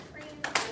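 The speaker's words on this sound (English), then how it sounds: "Clap." Two sharp hand claps come in quick succession, close and clear, during a children's martial arts stance drill.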